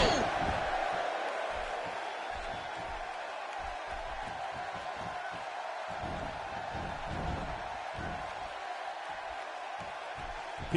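Arena crowd in the WWE 2K16 wrestling game, a steady loud roar of cheering and noise sustained throughout with scattered thumps and swells, continuous and fairly close.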